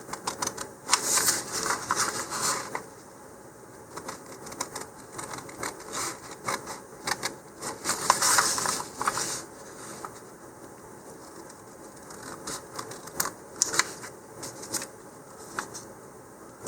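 Scissors cutting out a paper tube marking guide for an Estes Orange Bullet model rocket, giving close, crisp snipping and rustling paper in irregular bursts with no talk.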